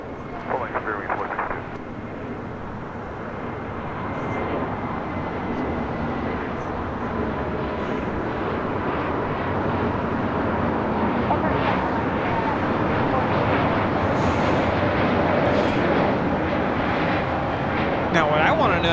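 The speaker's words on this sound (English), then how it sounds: "Next takeoff, a Spirit heading to San Antonio, Texas." A Spirit Airlines jet on its takeoff roll at LAX gives off a broad, steadily building engine roar that swells louder over the whole stretch, heard from a distance outdoors with wind noise and a brief voice near the start.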